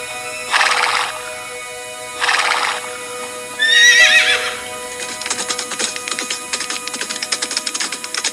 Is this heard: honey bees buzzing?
no